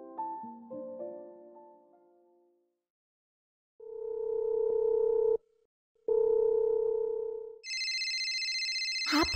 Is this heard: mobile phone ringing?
yes